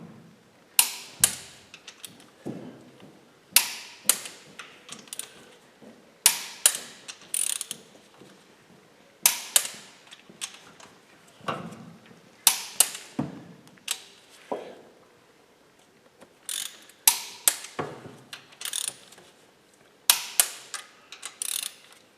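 Torque wrench tightening camshaft bolts to 80 newton meters on a B18/B20 engine, sharp close ratcheting clicks in repeated short bursts with pauses between each bolt.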